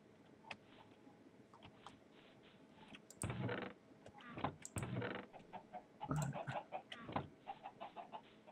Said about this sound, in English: You hear my chickens?